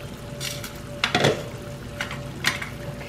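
Chicken dry roasts in a pan with a soft, steady sizzle, broken by a couple of louder scrapes and clinks of a spoon stirring against the metal, close and without talk.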